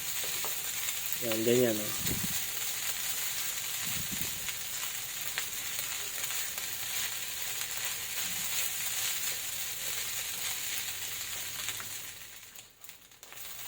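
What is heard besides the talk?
stir-frying garlic soy sauce fried rice, crushing lumps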